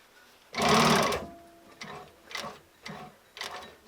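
A sewing machine stitches an invisible zipper beside welt cord, opening with a loud sustained run of rapid needle clatter, then three shorter bursts of stitching separated by brief pauses; no voices.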